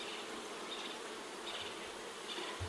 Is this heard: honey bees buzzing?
yes